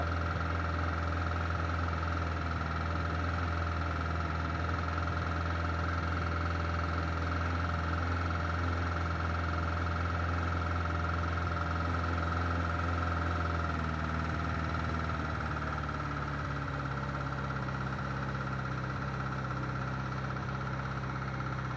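A 1988 Suzuki GSX 1100F Katana motorcycle idles steadily while warming up, a continuous low rumble with a slight shift in pitch partway through, close and unbroken with no talking.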